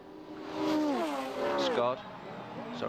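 Holden Commodore VK touring race cars roar past at high speed on a long straight, engine tones sweeping down in pitch as each goes by, with a commentator talking over the passes.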